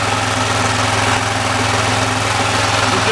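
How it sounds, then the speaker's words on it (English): An air compressor engine fitted with a new muffler runs steadily at idle with a low, even mechanical hum and faint knocking, muffled and constant throughout. "You just hear the mechanical sound of the engine."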